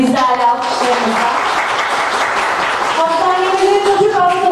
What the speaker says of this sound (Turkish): değerli alkışlarımızla